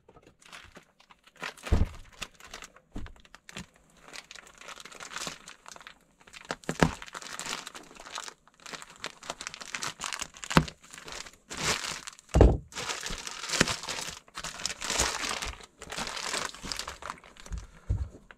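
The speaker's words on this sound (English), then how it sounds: "So you're going to go ahead and unzipper this." Plastic zippered package being unzipped and handled, with crinkling rustles, dull thunks and short tearing-like rasps in uneven bursts, close and moderately loud, with no speech.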